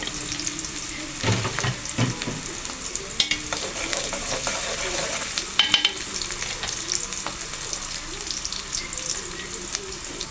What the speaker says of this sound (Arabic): هتقلبي البصلة علشان ما تتحرقش زي ما احنا بنعمل كل مرة لمدة دقيقتين بس